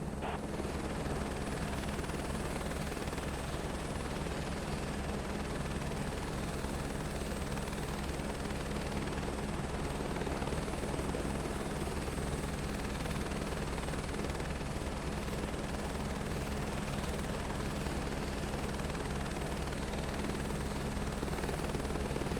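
An aircraft in Microsoft Flight Simulator 2024 drones with a steady, unbroken engine and rotor hum, holding an even loudness throughout while searching for flat ground to land on, with no talking.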